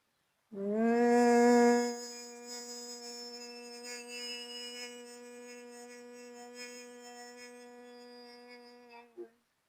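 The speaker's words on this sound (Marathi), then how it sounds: "म आवाज करत श्वास सोडायचा आहे" A woman's steady, low 'mmm' hum during Bhramari pranayama breathing practice: one long exhalation of about nine seconds, louder at the start, then held evenly before stopping abruptly. Nothing else is heard.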